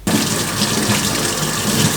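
Steady running cold water splashes continuously from a tap into a bowl while rinsing mussels, close and fairly loud, with no talking.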